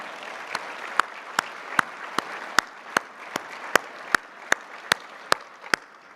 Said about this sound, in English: maybe even you should give yourselves a round of applause